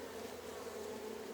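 A swarm of bees hums inside a box, a steady close buzzing drone that holds even and unbroken throughout, with no talking.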